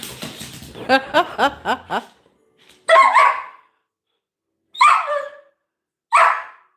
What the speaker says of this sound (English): We don't bark in the house.